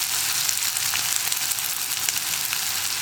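Onions sauté with salt in a hot pan, giving a steady, dense sizzle and crackle throughout, close and even, with no voices.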